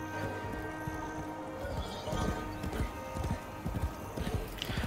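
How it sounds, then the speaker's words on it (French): Horse hooves clip-clop in a quick gallop with a neigh, in the video game Warframe, loud and steady throughout with faint background game sounds. "Je comprenais pas depuis quand il y avait des chevaux dans Warframe."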